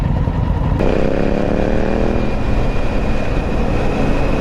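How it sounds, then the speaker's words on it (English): Triumph Street Scrambler motorcycle engine running among other bikes on a group charity ride, a steady low rumble with a rising harmonic whine as it pulls away, fairly close and continuous throughout with no talk. "That's the street scrambler you're hearing."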